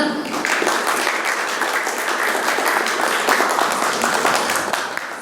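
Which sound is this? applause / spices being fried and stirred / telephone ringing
applause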